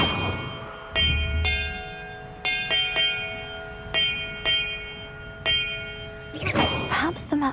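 Bells in the video game Hogwarts Legacy ring in a series of clear, resonant strikes spaced irregularly, each tone sustaining and overlapping, followed by a busier burst of rustling game sound near the end.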